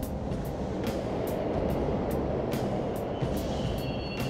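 Trains running in the video game Persona 5 Royal give a steady, loud rumble with repeated brief clanks, close and continuous throughout, with no talk over it.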